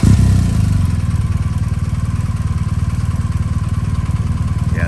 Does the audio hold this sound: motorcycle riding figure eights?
yes